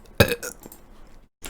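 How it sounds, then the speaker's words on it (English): A single loud, close burp bursts out, then trails off into a few seconds of quieter rasping noise, with a brief silence before another noisy sound starts. "how am I burping?"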